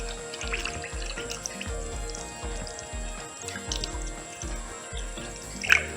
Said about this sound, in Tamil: அதே மெஷரிங் பவுலில் தான் நான் தண்ணி சேர்க்குறேன்.